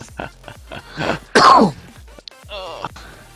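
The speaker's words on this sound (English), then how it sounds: "Sorry about the cough." A single hoarse cough in the middle of a game development session, loud and close, with a rough throaty burst and brief vocal sounds before and after.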